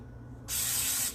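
Cooking spray hisses onto a cake pan for carrot cake in one short, close burst lasting about half a second.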